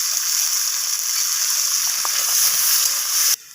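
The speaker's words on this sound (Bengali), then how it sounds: "এবার আমি ওই একই তেলের মধ্যে কেটে রাখা উচ্ছেগুলোকে দিয়ে দিলাম। তো উচ্ছেগুলোকে আমি একটু লালচে করে ভেজে নেব।" Sliced bitter gourd fries in hot oil with a steady, bright sizzle, close and continuous, with a few faint stirring clicks before it abruptly drops away at the end.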